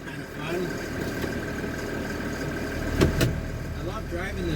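A diesel engine of an LMTV military truck runs steadily inside the cab, a low continuous rumble with a couple of brief knocks near the middle.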